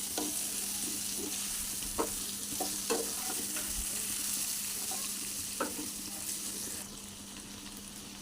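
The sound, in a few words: stirring mutton curry with chilies in a pan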